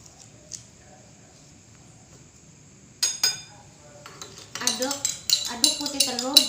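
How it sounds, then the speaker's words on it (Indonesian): Egg white being stirred with lime juice in a container, heard as a run of sharp clinks and scrapes of a utensil against the vessel, sparse at first and then quick and busy near the end, with no talk. "Aduk putih telur dan amati perubahannya."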